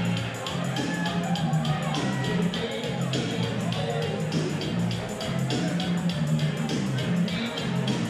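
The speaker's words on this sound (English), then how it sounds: "the crowd's definitely getting into it now" A large crowd at a fight event cheers and roars in a steady, dense wash of voices with some higher shouts, loud and continuous throughout.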